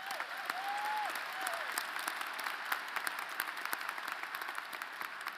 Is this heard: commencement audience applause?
yes